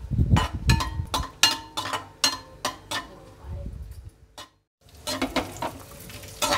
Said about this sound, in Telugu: ముందుగా జీడిపప్పు, ఎర్రగా వచ్చే వరకు ఉంచుకోవాలి.